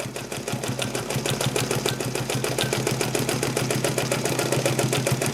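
A Necchi BU Mira sewing machine stitches steadily with its Wonder Wheel engaged, a fast even mechanical clatter of needle strokes running continuously at close range with no talk.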